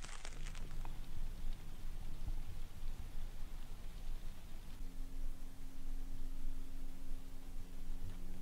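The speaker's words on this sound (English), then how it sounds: "it's still raining, and it's supposed to rain until about 10 o'clock" Steady rain patters on a tent while canoe camping in the Wisconsin wilderness, a dense, even hiss with scattered louder drops close overhead, continuous throughout with a faint low hum joining partway.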